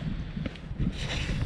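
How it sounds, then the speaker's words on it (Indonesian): Wind gusts across an outdoor viewpoint in Athens, a steady broadband rush buffeting the microphone for the whole moment, loud and close with no voices. "Oh, ada angin dia."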